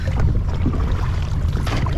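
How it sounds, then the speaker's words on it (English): Oars work an inflatable boat whose motor sits unused, giving a low, close rumble of water and wind with a few soft splashes and no voices. "Motor's busted and Dad's rowing."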